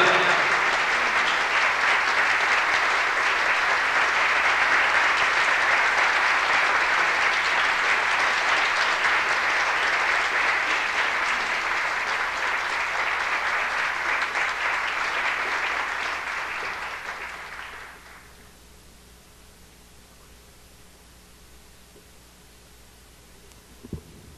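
Audience applause for a musician at a concert tribute, a loud, dense and sustained wash of clapping that fades out after about seventeen seconds into quiet room hum.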